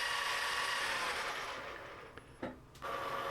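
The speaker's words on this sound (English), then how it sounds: "The high-speed drill fails very soon." A high-speed drill bites into pre-hardened tool steel with a loud, harsh grinding whine, then fades and cuts out briefly before a short burst returns.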